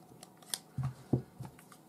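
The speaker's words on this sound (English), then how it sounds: "I can cut these excess ends off" A few quiet, crisp snips of scissors cutting through cord, spaced irregularly, with faint handling noise in between.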